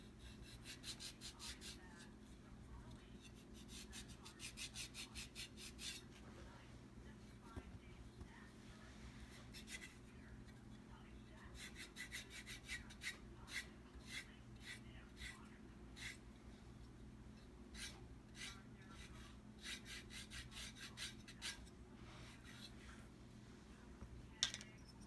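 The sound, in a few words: buffing block filing toenails during pedicure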